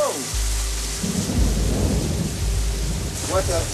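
Heavy rain pours down in a dense, steady roar, with a deep rumble of thunder underneath and brief voices near the end.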